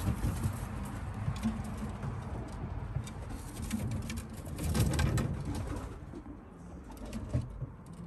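Racing pigeons in a breeding loft coo steadily and overlap one another, close and fairly loud, with wingbeats and shuffling throughout and a brief swell of activity midway.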